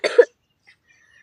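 A single short, harsh cough from a woman with a hoarse, sore throat, close and clear, followed by near silence.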